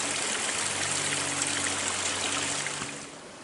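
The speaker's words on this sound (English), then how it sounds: "It's obviously spring fed from somewhere up above. And it's just chugging away." A spring-fed stream runs through a side canyon in steady, full, close flowing water and trickling, easing off slightly near the end, with no voices.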